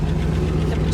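Nissan car engine running in a parking lot: a loud, steady low idle rumble with a constant hum, close up and continuous throughout.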